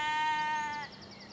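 A young sheep in a church meadow nature reserve gives a single sustained bleat of almost a second, moderately near against quiet outdoor background.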